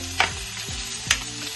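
Pancetta frying in a pan for carbonara, a steady close sizzle with two sharp scraping stirs of a utensil against the pan.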